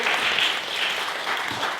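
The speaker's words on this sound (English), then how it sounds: "Round of applause." Studio audience applauding at a comedy improv show, a dense steady wash of clapping filling the room throughout with no break.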